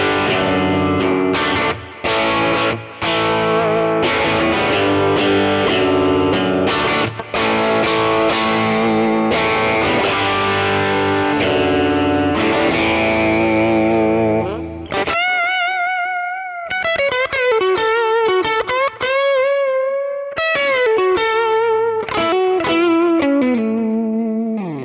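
Electric guitar through a 1964 AC10 Twin amp profile on a Kemper, dense overdriven chords and riffs, then distorted single-note bends and lines ringing with sustain, loud and close, no voices.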